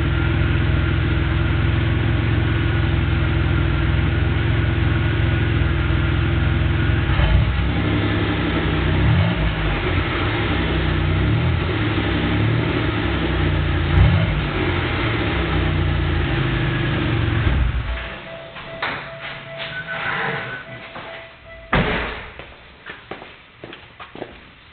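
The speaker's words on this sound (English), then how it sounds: "Guess I might rev it up a couple small times." A car with a new aftermarket exhaust idles with a deep steady drone, then gets a couple of brief revs before the engine cuts and fades to quieter outdoor noise, recorded close by without speech.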